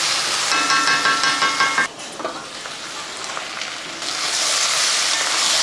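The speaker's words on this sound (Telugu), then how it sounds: "మీడియం ఫ్లేమ్ మీద మంచిగా ముక్కల్ని ముందు చక్కగా వేయించుకోవాలి" Pumpkin pieces and onion fry in a pan over a medium flame, a close, continuous sizzle broken by brief stirring scrapes and a short dip in the middle.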